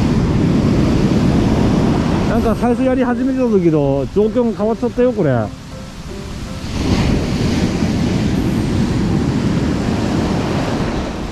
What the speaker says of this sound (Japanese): 波強い波強いな